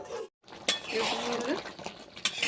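Water poured into a cooking pot of chhyachra with fish head, pumpkin and drumsticks, then a lid set on top, giving close metallic clinks and clatter, with a voice talking over the kitchen sounds.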